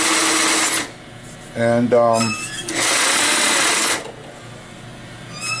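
Sewing machine stitching a barrel bag, running in two loud bursts of a couple of seconds each with a short gap between them, while someone speaks over the machine.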